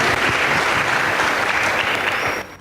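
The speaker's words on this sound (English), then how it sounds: "Please give them a round of applause." Loud, dense audience applause at a school debate competition between Thika High School and Pumwani Secondary School, sustained clapping from a large crowd that fades near the end.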